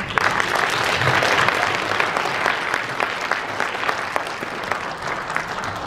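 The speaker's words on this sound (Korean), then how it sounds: "우리 한 번 더 박수하면서" Steady applause from a church congregation at a New Year prayer breakfast, clapping for a praise choir's song. The dense, even clapping fills the whole stretch without words.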